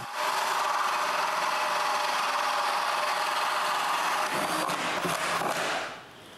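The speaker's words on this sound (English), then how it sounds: "so I drill a bigger opening" A drill boring a larger opening through a wooden shelf built for an X-Carve machine, a loud continuous whine with grinding texture that holds steady for several seconds, then roughens and cuts off near the end.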